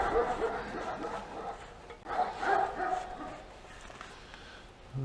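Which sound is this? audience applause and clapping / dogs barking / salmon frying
dogs barking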